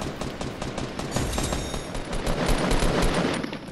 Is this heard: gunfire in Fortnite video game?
yes